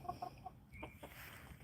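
Backyard garden chickens give a few soft, brief clucks and calls, faint and fairly close, with quiet gaps between them.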